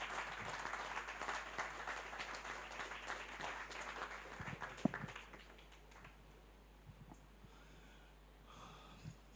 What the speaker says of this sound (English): can you give a round of applause to the next poet